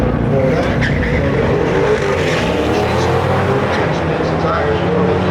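A mid-engine Corvette C8 launches down a drag strip with a loud, sustained engine roar and crowd noise around it. A voice talks over the roar.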